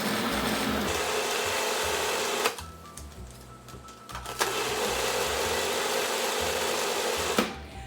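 An electric mixer beats batter for strawberry pecan chocolate bread with a loud, close motor whir, pausing briefly near the start, restarting, then cutting off near the end.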